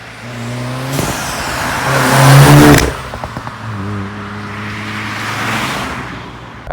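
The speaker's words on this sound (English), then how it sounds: "to have what is probably the best judged Golf exhaust noise from the factory" VW Golf MK7 GTI Clubsport S engine revving hard, exhaust and intake rising to a loud rasping peak, then cutting off with crackles and pops before settling into a lower throbbing burble and another gentle rise.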